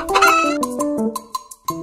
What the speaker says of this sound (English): C for chicken